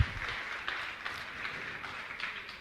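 Faint applause from an audience at a religious gathering, a soft continuous patter of many hands clapping at a distance, with no voices over it.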